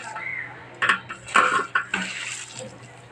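A mixture stirred in a bowl, with several clinking, scraping bursts of a utensil against the dish at close range over a quiet background.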